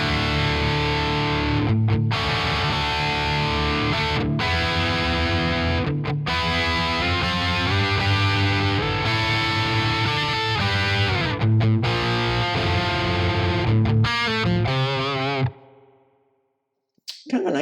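A heavy, distorted electric guitar through a Quad Cortex heavy-channel preset plays dense chords and riffs with brief pauses, loud and sustained, before ringing out and stopping near the end.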